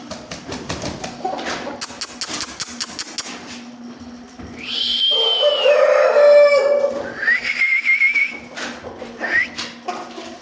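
Chicks and hens cheep and cluck nearby, with a rooster crowing loudly in the middle and a low steady hum throughout.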